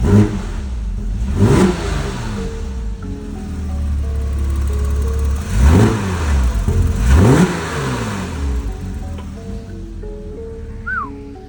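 A Porsche Cayman S 987.1 engine revs to about 3,000 rpm and drops back several times, rising and falling in pitch close by, idling between the blips.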